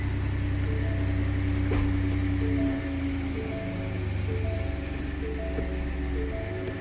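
A Ford F-150 pickup with a 6R80 transmission idles in gear, a steady close low drone with a faint whine that dips slightly in level partway through and then holds even, with no voices.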